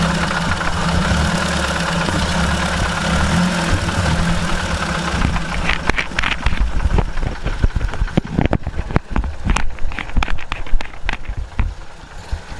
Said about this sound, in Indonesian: ini mesinnya Corona 1600